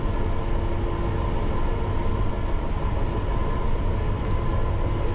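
A London Underground Piccadilly line train running near Hatton Cross, a loud, constant rumbling roar of wheels and motors heard from on board, steady throughout without talk.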